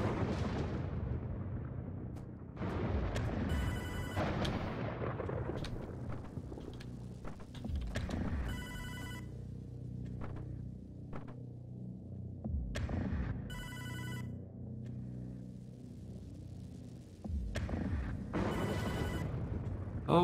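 A telephone rings in bursts within the video game Hotline Miami 2, its regular trilling rings recurring several times over a throbbing low synth soundtrack that continues throughout.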